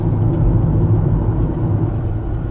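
A van rolls along the road, its engine and tyre rumble a steady, loud low drone from inside the cabin with no talking.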